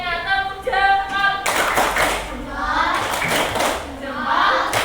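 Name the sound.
children doing a thumb clap for a classmate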